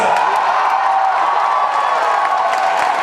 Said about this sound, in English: Please give a big round of applause to the cast of Power Rangers Megaforce.